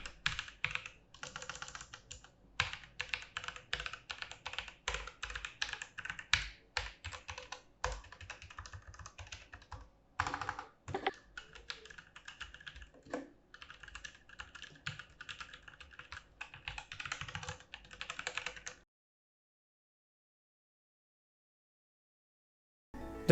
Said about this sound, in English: Here is how it sounds with the brown switches.